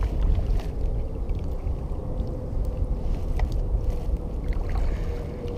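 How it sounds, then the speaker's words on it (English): A kayak glides on a pond while fishing, with a steady low wash of water against the hull and soft, continuous paddle splashes, faint wind rumble underneath and no talking. "this is pretty relaxing, just being on the water, paddling around."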